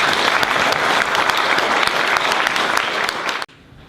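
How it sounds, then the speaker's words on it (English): An audience at a mental health forum applauds its panellists, with steady, dense clapping filling the room for over three seconds before it cuts off abruptly into quiet. "Let's give them a big round of applause."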